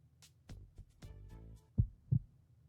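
Heartbeat sound effect in an otome video game: two deep, close thumps near the end, preceded by soft scattered rustles and tones.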